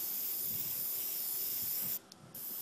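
An airbrush lays a base coat on a Bolt Action Hetzer model tank, making a steady, close hiss of spray that cuts out briefly near the end and then resumes.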